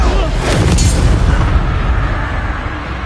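Confringo fire spell explosion in Hogwarts Legacy, a loud close blast that sustains as a dense, roaring rumble for a few seconds without clear breaks.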